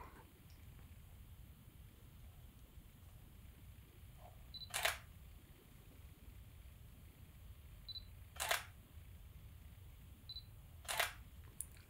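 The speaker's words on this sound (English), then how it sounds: "camera works normally, shutter works." A Canon EOS 5D Mark IV DSLR shutter clicks three times at even intervals in live view, each click crisp and close, over a low background hum.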